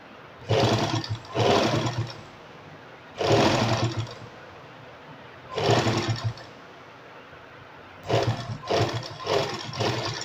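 Close electric sewing machine running a straight seam on a saree in short bursts: five or six whirring runs of one to two seconds each, separated by quiet pauses, with no speech.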